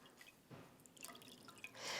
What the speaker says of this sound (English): I'm just going to gently squeeze this water out.